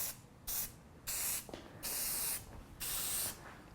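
Spray paint from an aerosol can being applied in light coats onto a homemade Super Mario warp pipe, heard as four hissing bursts of about half a second to a second each, separated by short pauses.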